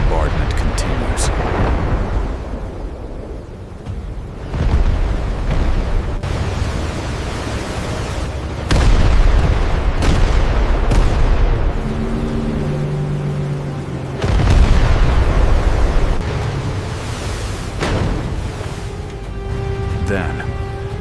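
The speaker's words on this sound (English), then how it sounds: "The bombardment continues." A naval bombardment of the beach at Gela rolls on in a series of deep, booming explosions with long rumbling tails, repeating every few seconds over a constant roar of noise, loud and continuous.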